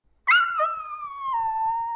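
A small female dog lets out a single drawn-out whimper close by, starting sharply and then sliding slowly downward in pitch, a plaintive whine that trails on with no voices over it.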